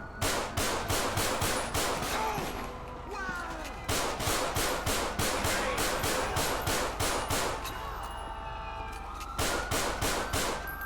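Rapid automatic gunfire in the video game GTA 5 rattles in loud, regular bursts, pausing and resuming several times, with a siren wailing underneath.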